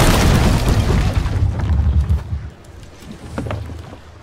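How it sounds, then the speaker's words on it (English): A ship's cannon fires in the Sea of Thieves pirate game, a loud close boom followed by a rumbling decay, with a weaker second thud as it fades out. "Shot the cannon."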